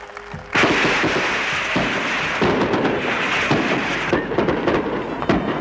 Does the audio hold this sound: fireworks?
yes